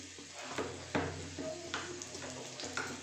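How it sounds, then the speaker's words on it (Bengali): Turmeric and Kashmiri chili powder hit hot oil on a low gas flame, giving a quiet, steady sizzle broken by a few soft clinks of stirring against the pan. "তেলের মধ্যেই দিয়ে দেবো হলুদ আর কাশ্মীরি মির্চি দিয়ে দিলাম"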